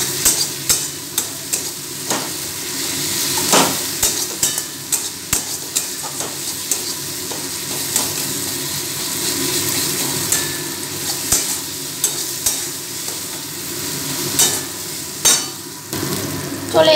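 Bengali mutton curry masala is stirred and fried hard in a pan on high flame, a loud continuous sizzle broken by regular clicks and scrapes of the spatula.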